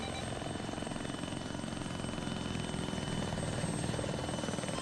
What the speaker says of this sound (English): put the POWs in the chopper when it lands.